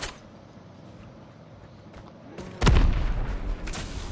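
An RPG explodes in Call of Duty gameplay, a loud deep boom that hits suddenly after a quieter stretch of battle ambience and rumbles on with a second burst near the end.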